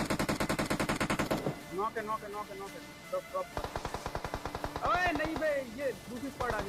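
Rapid automatic gunfire from a shooter video game, bursts of loud repeated shots in the opening and later stretches, with game sound effects and a voice talking in between.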